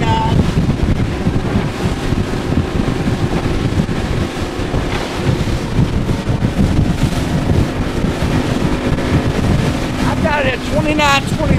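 A 2004 Cape Horn 24 powerboat runs at speed into an 18-knot headwind and about 2.5-foot chop, with a steady engine and hull roar, heavy wind buffeting the microphone and water rushing past throughout.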